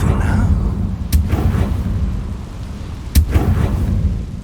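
A Confringo fire spell in Hogwarts Legacy bursts twice in sharp booming explosions that roll off into rumbling tails, loud over a dense, continuous low rumble of game ambience.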